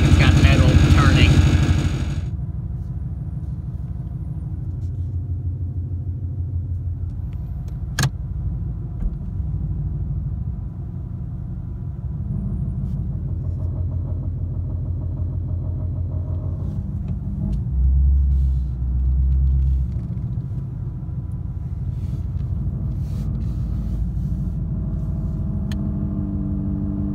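A 2017 Ford Mustang 5.0 with a suspected differential fault, heard as a low steady rumble from inside the car after a loud opening burst, running continuously with a few sharp clicks.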